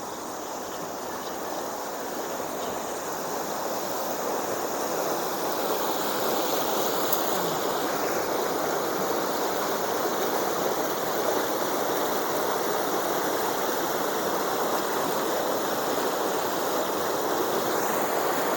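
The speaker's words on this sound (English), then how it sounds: "show you the waterfall and the fish pass" A waterfall and fish pass on the River Dearne in South Yorkshire roar as a steady broadband rush of falling water, constant and fairly loud throughout with no voices.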